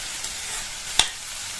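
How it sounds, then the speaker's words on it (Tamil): Okra sautéing in a pan over a medium flame gives a soft, steady sizzle, broken by a single sharp tap near the middle, with no voices. "இந்த வெண்டைக்காயை மீடியம் ஃப்ளேம்ல வச்சு நல்லா வதக்கிக்கணும்"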